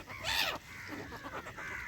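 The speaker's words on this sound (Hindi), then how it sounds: "अरे कौवे भी आ गए" Crows gathering at a feeding spot on the bank of the Narmada river give a loud, harsh caw, then a few shorter calls follow at moderate distance.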